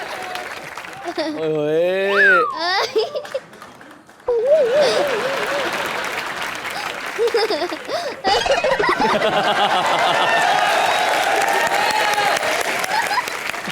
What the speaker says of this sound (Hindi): जोरदार तालियां जॉन सर के लिए।